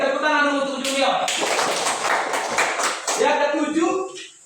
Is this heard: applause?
yes